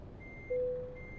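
A single electronic reversing beep sounds from a truck backing up in the driving game Euro Truck Simulator 2, a clear, steady tone about half a second long over a faint engine hum.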